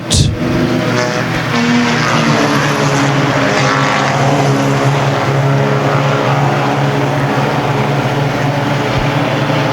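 Hornet class race cars roaring around a dirt oval at Ogilvie Raceway, a loud, sustained droning engine note from the pack with steady intensity and no talking.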